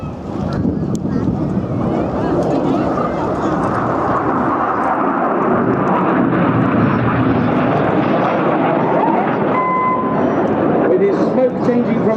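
Red Arrows display jets roar overhead at a seaside air show in Clacton-on-Sea, Essex: a broad, continuous engine roar with wind buffeting the microphone, while a commentator talks over it throughout.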